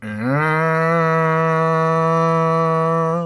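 A voice imitates a lighthouse foghorn, holding one long, loud, steady low tone with rich harmonics for about three seconds, close and alone.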